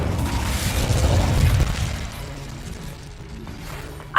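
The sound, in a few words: Incendio fire spell cast in a Harry Potter video game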